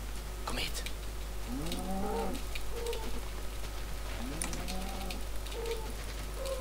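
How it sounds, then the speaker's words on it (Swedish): Cows moo in the video game Minecraft, two drawn-out lowing calls a few seconds apart sounding fairly faint over a steady background hiss and low hum, with no talk over them. "Jag kan höra kor nu också."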